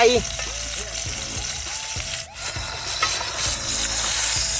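Snakehead fish marinated with salt and lemongrass frying in hot oil at a campsite, a steady loud sizzle with bubbling crackles and a few clattering knocks.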